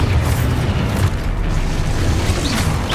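Rumbling magical blast from an Expulso spell in Hogwarts Legacy, a steady heavy low boom and roar that fills the whole moment without a clear start or end.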